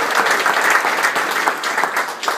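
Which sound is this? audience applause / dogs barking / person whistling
audience applause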